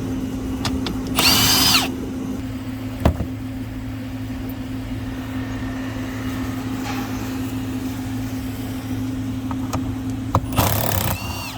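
Power drill taking a 10mm bolt out of a center console in a 2019-2022 Ram 2500/3500 truck: two short, loud bursts of whirring drill, one near the start and one near the end, with a steady low hum in between.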